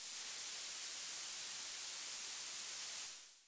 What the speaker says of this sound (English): Theoretically, blurple noise could be a combination of blue and violet noise,